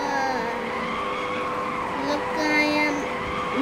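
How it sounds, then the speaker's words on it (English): A car drifting in a game-like driving session, with sustained tire squeal and engine drone holding steady throughout, close and loud, while a voice talks over it. "Look at drift!"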